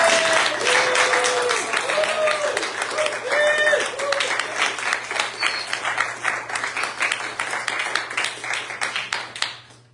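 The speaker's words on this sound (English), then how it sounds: "Give us a big round of applause." A concert audience applauds a jazz ensemble at a music school, loud dense clapping that thins toward the end, with voices audible over it early on.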